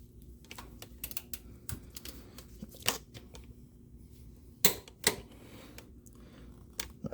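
A torque wrench on a 2011 Toyota Camry bolt gives a few sharp, close clicks among quieter rattles and handling noises, with two distinct clicks standing out near the end.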